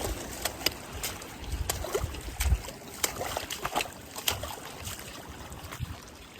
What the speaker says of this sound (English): Water just cruising down it.